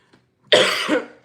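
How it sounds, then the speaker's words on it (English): A single harsh cough, close and loud, followed by a brief second catch of breath. "I got my little tea because I have a cough"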